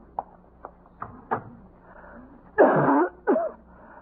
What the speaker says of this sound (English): Quite a cough